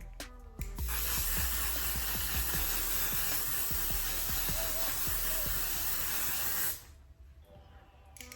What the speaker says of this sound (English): last but not least, apply my setting spray.